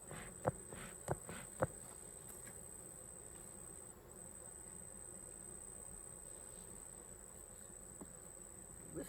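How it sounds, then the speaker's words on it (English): Honeybees hum steadily in an open beehive during hive feeding. The buzzing is faint and continuous, broken by a few soft knocks and clicks near the start. "This hive has quite a few bees in it."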